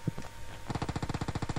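Gunfire in the mobile battle-royale game PUBG Mobile: a couple of sharp shots, then a rapid, evenly spaced automatic burst of about a dozen rounds, fairly quiet and with no talk over it.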